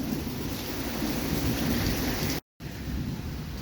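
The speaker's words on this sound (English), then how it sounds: "Now, that sounds like a ton of water coming down right now." Heavy rain pours down steadily outdoors, a dense continuous roar with rolling thunder mixed in, loud and unbroken apart from one brief dropout near the end.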